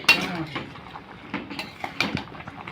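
Mango preserve being stirred in a pot: several light metallic clinks and scrapes of a spoon against the vessel, spaced irregularly at close range.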